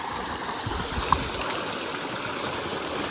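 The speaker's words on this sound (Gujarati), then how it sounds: "પાણી તો કેવું મસ્ત હાલે" Water flowing along an irrigation channel in a farm field, a continuous close gurgling rush of steady level that fills the whole stretch without voices.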